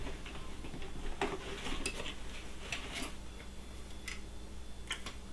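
Metal nesting camping cups clatter and tick against each other inside a packed bag of camping gear, with a run of light, irregular clinks and taps at close range over a steady low background hum.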